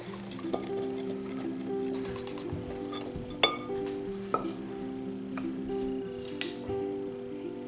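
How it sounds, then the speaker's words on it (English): A whisk stirs flour into batter in a bowl, making soft scraping and irregular clinks against the sides, with occasional louder taps, all over a steady background hum. "So I'm just gonna kind of whisk this as I add it in."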